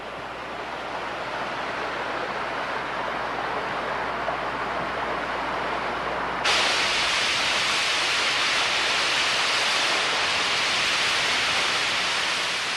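Continuous hiss and rush of a famous mountain waterfall in China, a broad steady roar that grows abruptly brighter and louder about halfway through and then holds constant.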